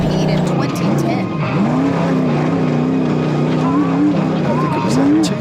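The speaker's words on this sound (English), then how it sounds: "So John Webb is out there on track right now." An off-road race car on the King of the Hammers 2024 qualifying course, its engine a loud, sustained drone that rises and falls in pitch through the whole stretch, with voices faintly present beneath.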